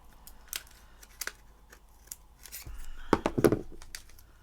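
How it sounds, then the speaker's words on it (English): Scissors snipping at tough plastic packaging for a phone wallet, a few sharp close cuts and crinkles building to a louder cluster of crunchy snips near the end. "I can't cut it with the scissors because my scissors only go so far."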